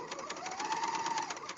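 A sewing machine runs along the crotch seam of a pair of pajamas, giving a brief, even, rapid stitching hum at moderate volume with no pause.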